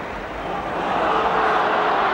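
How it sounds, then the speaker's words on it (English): Football crowd at a WBA v Man Utd match applauding after an offside goal, a broad steady roar of clapping and cheering from the stands, loud and continuous with no single voice standing out. "the crowd applaud nonetheless"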